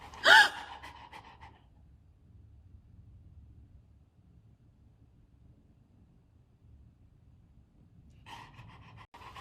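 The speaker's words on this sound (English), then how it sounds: "Gasp at your dog and watch their reaction." A single sharp human gasp aimed at a dog opens the clip, then a long quiet stretch of low background noise before a dog's soft panting or breathy huffing rises near the end.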